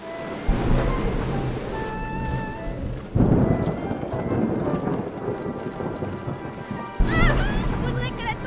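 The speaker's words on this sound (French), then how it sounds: "Faudrait que la tempête s'arrête!" Rain pours steadily in a thunderstorm while three sharp thunder cracks break through, each followed by a rolling rumble, with a voice speaking briefly between them.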